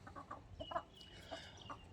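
Young chicks in a poultry shed holding about a hundred birds give repeated short cheeps and clucks at moderate level over a steady low background hum, with no talking.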